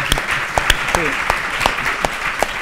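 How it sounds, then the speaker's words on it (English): Audience applause at an economics keynote lecture, a steady moderate patter of clapping from a crowd filling the room, with a speaking voice briefly heard over it. "So could I have a round of applause?"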